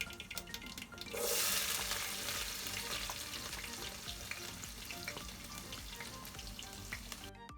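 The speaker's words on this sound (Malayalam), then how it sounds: "അതിലേക്ക് ഇഞ്ചിയും വെളുത്തുള്ളിയും ചേർത്ത് കൊടുക്കാം." Ginger and garlic drop into hot oil with popped mustard seeds for a Kerala lemon pickle, bursting into a loud hissing sizzle after a quieter start, then settling into a steady close frying sound with light stirring and no talk.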